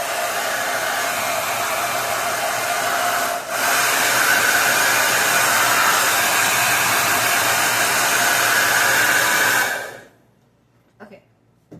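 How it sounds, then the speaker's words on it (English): A hair dryer blows steadily and loudly at close range for about ten seconds during a get-ready routine, with a brief dip midway, then cuts off abruptly, leaving near silence with a couple of faint small sounds. "now I'm going to blow dry it for 10 seconds one more time"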